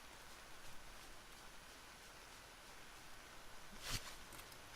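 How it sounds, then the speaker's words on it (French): Faint, steady hiss of heavy rain in the video game Eidolon, a soft continuous wash with one brief brighter burst near the end. "Bon, il pleut des cordes."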